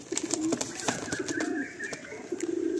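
Madrasi pigeons, a pair in a loft, give soft repeated low coos with brief wing flutters and rustling, close and fairly quiet, with no talking.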